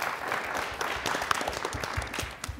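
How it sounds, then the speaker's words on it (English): Studio audience at a quiz bowl show applauds a competing school team, with dense, lively clapping throughout at close range and a few sharper individual claps standing out. "Let's have a round of applause for them."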